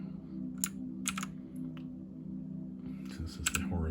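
Keys clacking on an E-YOOSO 81-key mechanical keyboard, a few sharp bursts of typing over a steady low hum, close and moderately loud.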